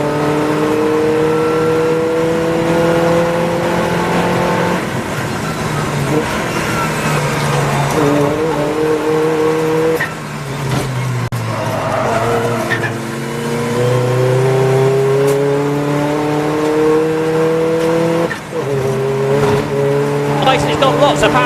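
Race cars lapping Croft circuit in a 750MC Roadsports race, including a BMW Compact, VW Golf TDI and Audi TT TFSI; loud sustained engine drone rising and falling through gear changes, with a commentator talking over it throughout.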